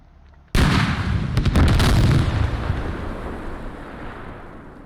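Armored vehicle weapons fire in the military shooter Squad: a sudden loud, close blast followed by a few sharp cracks, then a long rolling reverberation that slowly fades away, with no speech.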